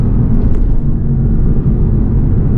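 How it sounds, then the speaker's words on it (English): A rear-wheel-drive Mercedes-AMG GT S roars in a brutal launch-control race start. The engine gives a loud, close, sustained low rumble that stays heavy throughout. "That's race start."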